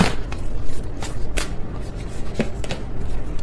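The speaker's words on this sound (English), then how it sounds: "That was a sloppy shuffle." Deck of tarot cards shuffled by hand, several quick crisp riffling bursts and snaps against a soft background hiss, close up with no talking.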